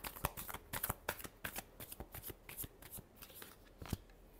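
Tarot cards being shuffled by hand, a quick series of close, crisp riffling flutters in uneven bursts, with no talk.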